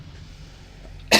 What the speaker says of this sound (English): Hope this helps get rid of this stupid cough.